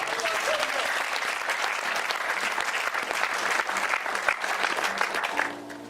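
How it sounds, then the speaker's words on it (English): A church congregation claps warmly in praise of Jesus, a thick, continuous burst of many hands with a few scattered voices, holding steady before trailing off near the end. "Can somebody put a warm clap for Jesus?"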